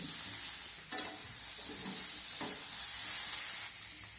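Boiled potatoes stir-fry in a kadai, a soft continuous sizzle broken by a few scraping stirs of the spatula against the pan, close but fairly quiet, with no talking.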